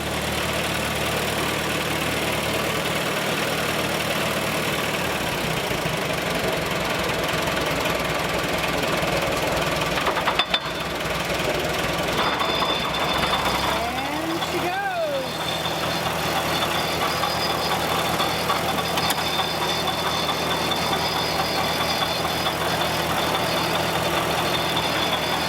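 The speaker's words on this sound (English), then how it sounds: "this is going to be a demonstration of the ice cream maker." A Farmall BN tractor engine drives a custom-mounted ice cream maker, running steadily and loudly with a knocking, idling rumble. The mechanical noise goes on without a break and no one speaks.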